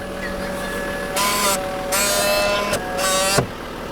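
Electric folding side mirror motor on a 1990 Toyota Land Cruiser 80-Series turbo diesel, three short whirring bursts with brief pauses between them, close and clear with no talk.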